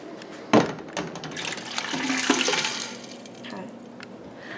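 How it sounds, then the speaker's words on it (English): Water pours steadily into a pot of dried beans for several seconds, a close splashing rush that swells in the middle and then eases off. "I'm going to cover them with probably an inch and a half to 2 inches of water."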